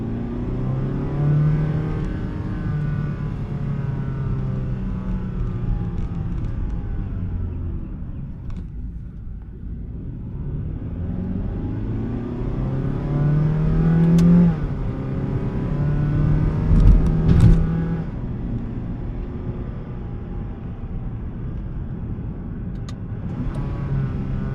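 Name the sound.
Honda City Hybrid engine accelerating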